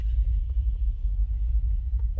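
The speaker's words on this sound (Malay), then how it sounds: "I rasa you boleh dengar kot rumbling subwoofer kat belakang tu." A pink noise test signal plays through a car subwoofer as a continuous low, rumbling hum filling the cabin, steady and unbroken, with no voices.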